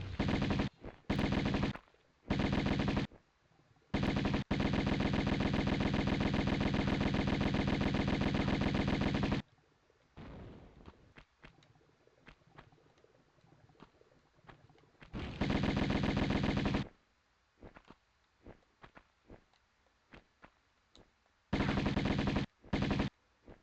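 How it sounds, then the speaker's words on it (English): Uzi fire in the 1996 game Tomb Raider, bursts of rapid automatic shots in several loud blocks, one long sustained burst, separated by quieter gaps with scattered clicks and thuds. "I used a lot of Uzi ammo."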